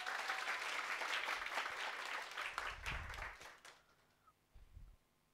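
Audience applause at a business presentation, a crowd clapping densely and steadily before fading out in scattered claps near the end.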